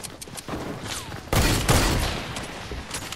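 Gunfire in a first-person shooter video game with cornfields, sparse shots early then a loud burst of rapid shots in the middle, fading to scattered echoing reports.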